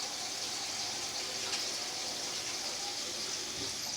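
A kitchen tap runs steadily while hands are washed, a constant close hiss of flowing water with no breaks and no talking.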